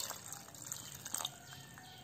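Water poured over chopped challe kai (a vegetable) in a kitchen to soak it, a faint, brief trickle and splash with a few small drip-like ticks, heard up close and with no one talking.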